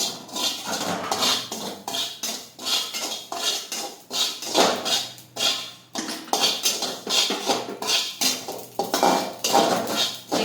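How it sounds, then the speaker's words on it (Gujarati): Rapid clattering and pattering of amaranth seeds popping in a metal pan, rising and falling in repeated bursts as they are stirred, with no talking. "એકદમ સરસ આપણી ધાણી છે તે ફૂટી રહી છે"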